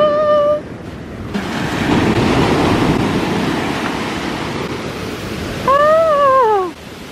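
Ocean surf washes onto a beach in Cabo, Mexico, a broad steady hiss of waves under wind noise, with high wailing cries at the start and again near the end.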